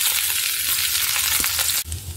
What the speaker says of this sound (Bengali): কড়াইতে তেল দিয়ে দিলাম।